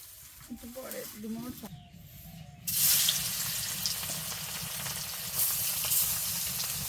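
Fish fries in oil in a wok. Speech comes first, then a loud, bright hiss of sizzling oil bursts in and keeps crackling steadily.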